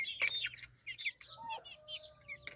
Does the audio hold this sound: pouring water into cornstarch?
no